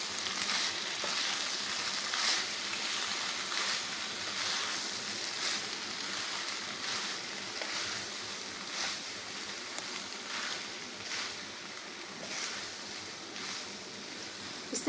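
Macaroni with vegetables, chilli sauce, salt and black pepper frying in a pan, a steady loud sizzle with occasional scraping strokes of stirring throughout, no voices.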